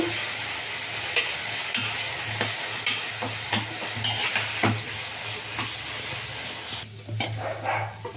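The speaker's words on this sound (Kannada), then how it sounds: "ಈಗ ಇದನ್ನು ಒಂದು ಇದು ಕಲರ್ ಚೇಂಜ್ ಆಗೋವರೆಗೂ ಫ್ರೈ ಮಾಡ್ತಾನೆ ಇರಬೇಕು" Raw green banana slices frying and sizzling in a pan, with a steady hiss and repeated scraping stirs and clinks of a utensil against the pan, close up and without talk.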